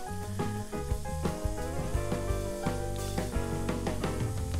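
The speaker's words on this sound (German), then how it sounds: "Ich schalte den noch mal ganz kurz auf große Stufe, damit es noch einmal gut durchbrutzelt" Onions sizzling hard in a pot on high heat, a loud steady crackle and hiss with dense popping throughout, close and without voices.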